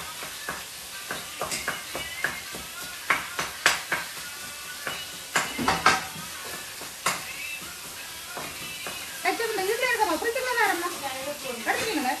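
Ground meat being sautéed in a pan, with a steady sizzle under repeated scraping stir strokes from a spatula. A voice speaks briefly near the end.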